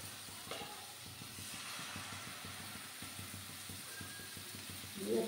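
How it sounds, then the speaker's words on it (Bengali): Paratha batter frying in a pan of hot oil gives a steady, close sizzling hiss with faint low rhythmic thumps underneath, and no one speaks. "এবার আমি আর একটু তেল দিলাম, দিয়ে আর একটু ব্যাটার দেব।"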